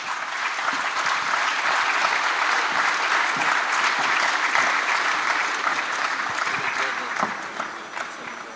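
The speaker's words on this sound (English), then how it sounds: "A round of applause again for Joy." A room full of people applauding a speaker at a social impact summit, steady dense clapping that tapers toward the end, with a voice talking faintly over it.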